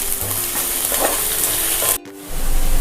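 Onions sizzle and crackle steadily in a hot pan, close and loud, with a brief stir and a sudden drop as chopped green chillies go in, before the frying noise returns.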